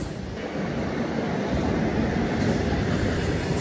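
A long goods train rolls steadily past at close range, a continuous loud rumble of wheels and wagons with faint rhythmic clatter and no pause throughout.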